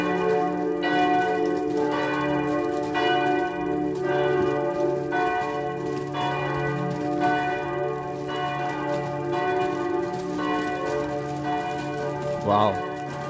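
Church bells in Paris ringing for mass at 6:30, loud repeated strikes in a steady rhythm with long humming resonance between them, close and continuous throughout, with a brief sharp noise near the end.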